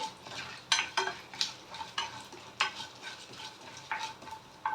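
Onion, green chilli and curry leaves fry in a pan, with a soft sizzle broken by repeated scraping strokes of a spatula at an uneven rhythm, close and fairly quiet.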